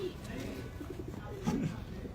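Pigeons coo in a low, throaty burble at close range, with a louder rolling coo near the end over steady background noise.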